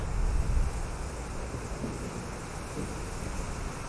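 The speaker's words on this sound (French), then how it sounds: "Il y a de l'orage." A thunderstorm in the Hitman 2 video game, with a dull rumble of thunder fading from an initial swell into a continuous hiss of rain and wind.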